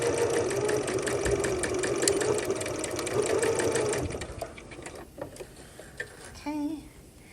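A sewing machine stitches the inseam of pajama shorts with a fast, steady mechanical whir for about four seconds, then stops, leaving faint handling clicks and rustles.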